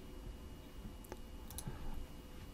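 Faint computer mouse clicks on a desktop, a few short sharp ticks spaced around the middle of the stretch over low room hiss, no talking.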